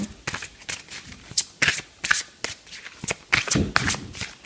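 A deck of fairy oracle cards being shuffled up close, a series of quick riffling bursts and soft flutters in an irregular rhythm, fairly quiet.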